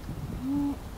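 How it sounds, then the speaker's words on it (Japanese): A bird on the ground in a quiet Calgary residential street gives a single short, soft hooting call against faint outdoor background noise. "なんか鳥がいます。"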